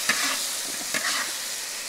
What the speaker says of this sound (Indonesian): Goreng ikan tenggiri pakai tahu sama kentang.